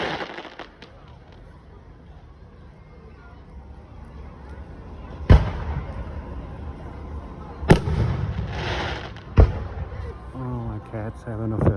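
Fireworks at the Seaway festival in Ogdensburg, New York: three sharp booms spaced a couple of seconds apart, with crackling bursts in between, over a low background murmur and voices nearby.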